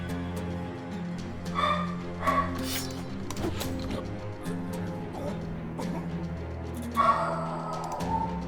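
Indoors a dog lets out several loud barks in scattered bursts, partly buried under ongoing video game music and clatter.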